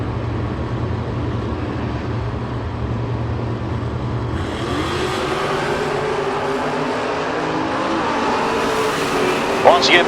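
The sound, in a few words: drag race of a Dakota pickup and a Chevy II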